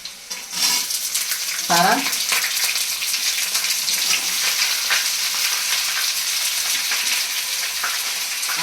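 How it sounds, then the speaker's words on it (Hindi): Onions fry in a pan in a loud, steady, close sizzle that continues throughout, with a brief clatter and a short spoken word near the start. "तो ये हम सब इसमें प्याज डाल देते हैं"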